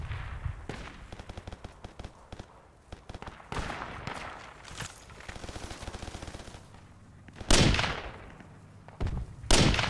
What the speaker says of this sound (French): J'entends des tirs sur ma gauche.